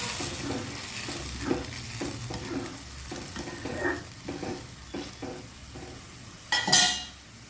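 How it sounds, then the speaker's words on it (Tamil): Schezwan chutney simmering and sizzling in a pan is stirred with a spoon: repeated scraping strokes at a steady rhythm over a constant frying hiss, ending with a sharp metallic clink against the pan near the end. "இப்போ இதை நல்லா கிண்டி விடலாம்."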